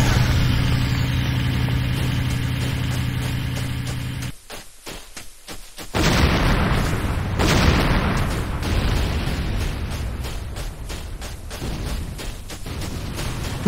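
A structure explosion in the video game Command & Conquer Renegade, with a loud rumbling blast and crackling debris after a brief dropout, over a steady mechanical hum.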